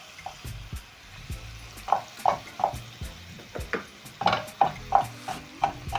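Onions are stirred into hot cooking oil for a sautéed cabbage dish: a close, rhythmic series of utensil scrapes and taps against the pan over a soft sizzle, with no talking.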